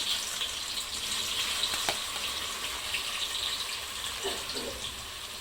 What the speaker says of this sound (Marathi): तर आता आपल्याला ह्याला फोडणीमध्ये टाकायचं आहे